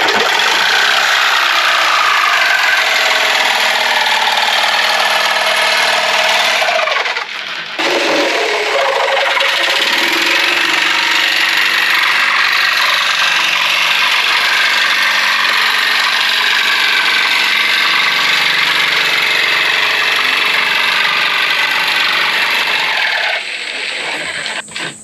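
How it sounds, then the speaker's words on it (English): A jigsaw cuts a mounting piece for installing a Garmin 8412 and LVS34 transducer, making a loud, continuous, close mechanical buzz with one brief pause partway through before the cut resumes. "I think I'll just cut around that with the jigsaw."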